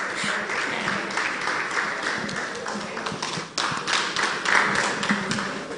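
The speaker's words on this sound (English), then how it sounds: "Please give her a round of applause as she comes up." An audience at an International Breweries Plc event applauds, dense continuous clapping from many hands mixed with a speaker's voice over a PA.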